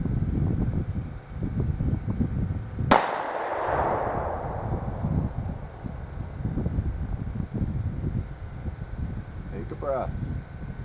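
A single sharp handgun shot rings out at a shooting target, loud and close with a decaying ring, while an instructor talks before and after it.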